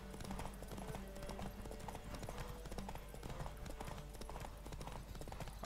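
Horse hooves galloping in Witcher 3, a steady rapid clip-clop rhythm running throughout at moderate level beneath layered game music and ambience.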